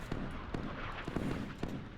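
Naval guns fire in the warship combat game Sea Power during a Battle of Jutland scenario. Faint, muffled thumps repeat at a steady, rapid pace over a dense background rumble.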